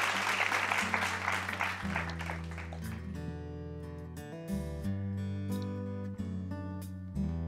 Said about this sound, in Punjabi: ਜ਼ਰਾ ਇਹਨਾਂ ਲਈ ਬਹੁਤ ਹੀ ਜ਼ੋਰਦਾਰ ਤਾਲੀਆਂ ਵਜਾ ਦਿਓ।